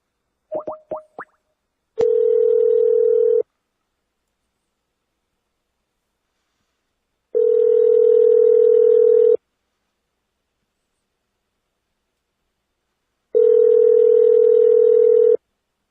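A phone call is placed: a few quick dial beeps, then a steady ringback tone sounding three times with long silent gaps between rings, clear and close.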